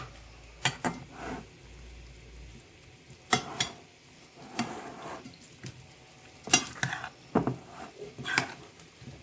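Chopped egg salad being stirred with mayonnaise in a bowl: soft, close, intermittent squelching and scraping strokes in irregular bursts, with quiet pauses between them.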